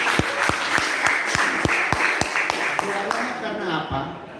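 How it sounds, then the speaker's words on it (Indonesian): A meeting room crowd at a technical briefing for a church choir festival claps in steady unison, a loud, regular beat of sharp group claps about three per second with voices murmuring underneath. "Tepuk tangan dulu."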